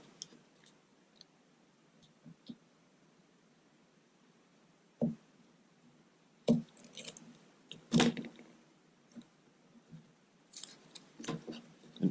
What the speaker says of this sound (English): And now I'm going to just trim that.